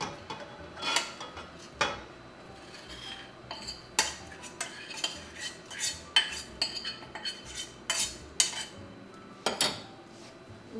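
Cooked rice being stirred into cooked yogurt with a metal utensil in a pot, giving irregular clinks and scrapes against the side, close and clear with no talking.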